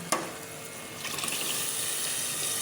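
After a sharp click, water pours into a cooking pan of frying masala and potatoes for aloo palak, a steady rushing hiss that holds at a moderate level to the end.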